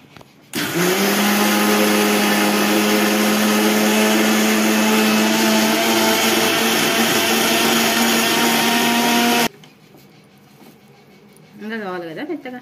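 Mixer grinder grinding fenugreek (methi) seeds into a paste with a little water, a loud steady motor whine running for about nine seconds before cutting off, followed by a brief voice.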